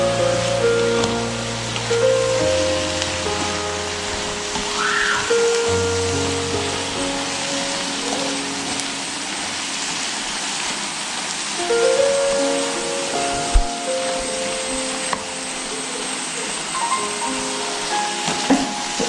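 Onions sautéing with a little salt in a pan for butter chicken, a steady broad sizzle with soft scraping from stirring, while background music runs beneath and no one talks.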